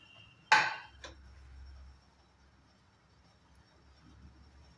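Fried paneer tipped out of a pan, giving a sharp metallic clatter of pieces and utensil against cookware followed by a second clink and a brief low scrape, then quiet.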